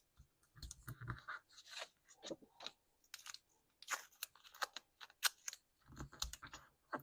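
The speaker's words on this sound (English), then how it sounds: "You can also just take your scissors and use your blade of your scissors." Scissor blades scrape along paper in short, uneven scratchy strokes with brief pauses between them.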